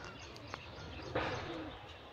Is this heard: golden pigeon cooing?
yes